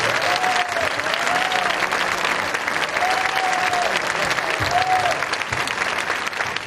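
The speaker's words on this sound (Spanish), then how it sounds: "fuertísimo aplauso para ella." An audience at the Sueca town festival applauds a singer, with loud, sustained clapping and crowd noise filling the whole stretch and a voice singing briefly through it.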